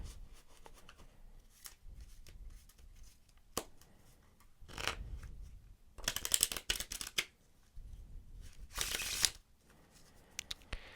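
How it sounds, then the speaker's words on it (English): Crisp riffling and snapping of playing cards being shuffled, in several quick bursts with short pauses between, close up and without talk. "We do, of course, need to shuffle the deck to ensure that it's nice and random"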